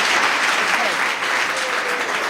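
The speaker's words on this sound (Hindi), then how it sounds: "चलिए ताली बजाइए इनको लिए।" Classroom audience at an English coaching class applauding a student, a steady loud wash of many hands clapping throughout, close and continuous.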